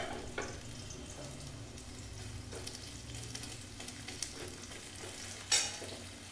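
Chopped onion goes into a pan of frying kundri (ivy gourd) and posto (poppy seeds), giving a steady close-up sizzle with a few light scrapes and one sharper clatter near the end.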